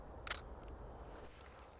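A single crisp shutter click from a Nikon DSLR fitted with a plastic 50mm lens, shutter speed just under 1/500th, sounds once, close and fairly quiet over a soft room hush.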